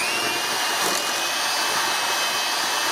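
An electric mixer whirs with a steady, close, high-pitched drone while fudge pie batter is mixed, running alone without talk.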